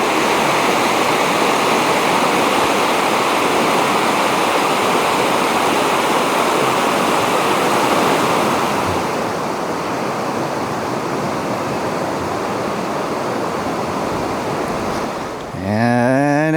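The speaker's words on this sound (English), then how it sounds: "Our journey began by crossing the South Fork of the Sun River." The South Fork of the Sun River in the Bob Marshall Wilderness rushes steadily and loudly, a continuous broadband water roar close to the microphone that eases slightly near the end.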